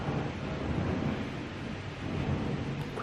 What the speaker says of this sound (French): Coup de tonnerre numéro 2.